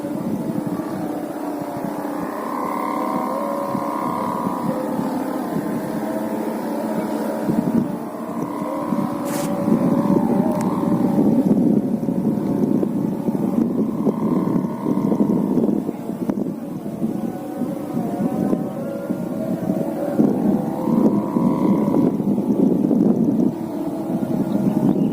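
Sawangan kites from Bangkalan, Madura, flying in wind, their whistles humming and wavering in overlapping tones as two answer each other, continuous and fairly loud over steady wind noise.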